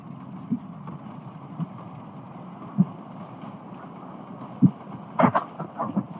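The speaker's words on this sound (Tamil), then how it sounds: "The train is now approaching." A train arrives in a video game, rumbling steadily with rhythmic clacking thumps of wheels over rail joints and a few louder metallic knocks near the end, heard without talk.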